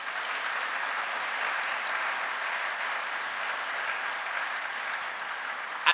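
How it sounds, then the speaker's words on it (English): Steady applause from a sizable crowd at a city summit, a dense wash of clapping that holds at an even level throughout. "Please give them all a round of applause."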